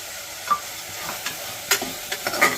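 Beans, carrot and potato fry in oil with softened tomato for vegetable pulao, giving a steady close sizzle broken by a few sharp stirring scrapes and clicks, no voices.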